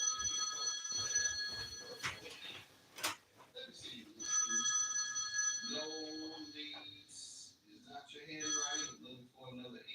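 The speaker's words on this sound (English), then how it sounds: "somebody's calling me on my phone" A phone rings with an incoming call, its bright, repeating electronic ringtone chiming in bursts while people talk over it nearby.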